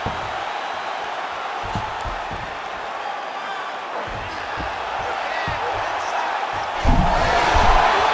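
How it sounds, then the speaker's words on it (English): Crowd at a UFC 322 fight (Islam Makhachev vs Jack Della Maddalena) roars in a broad, steady wash that swells louder near the end, with a few sharp thuds from the cage and commentary voices underneath. "huge pop from the crowd as the fighters get back up to their feet"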